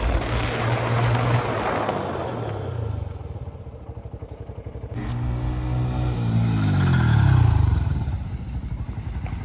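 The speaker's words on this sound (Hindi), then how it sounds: "अब आ रही है हॉर्नेट, देखते हैं उसकी ब्रेकिंग कैसी रहती है।" A Honda Hornet 125 motorcycle approaches in a braking test, its engine loud and rising, then a sharp pitch shift and falling drone as it brakes hard nearby, with road clatter and no talk.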